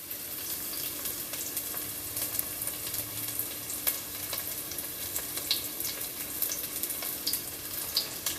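Chopped garlic frying in hot oil in a pan for chilli con carne, a steady close sizzle and crackle with occasional scrapes of stirring, no voice.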